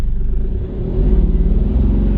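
Mahindra Bolero Neo engine launching from a standstill and revving, a loud, close, steady low rumble with a slight swell partway through, and no talk.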